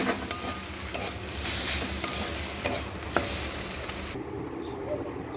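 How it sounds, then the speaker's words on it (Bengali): Radish greens with prawns being stirred in a pan, a steady close sizzle with spoon scrapes and light clinks that thin out near the end. "সামান্য একটুখানি মিষ্টি দিয়ে নাড়াচাড়া করেই নামিয়ে নেব"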